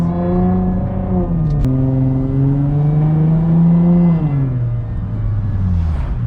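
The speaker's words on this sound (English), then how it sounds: "I do like the sound of this car." A Subaru WRX fitted with a Tomei exhaust revs up close and loud, its engine note climbing, holding and dropping back in a smooth drone, with no voices over it.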